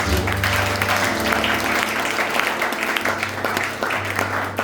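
A church congregation breaks into sustained applause and cheering for God's glory, a dense crowd of clapping hands filling the room steadily for several seconds.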